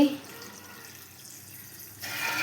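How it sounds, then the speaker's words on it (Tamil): Water poured into a cup over dried anchovies, a soft continuous splashing stream that stops abruptly near the end, followed by brighter room noise. "ஒரு கப்பு தண்ணி ஊற்றி"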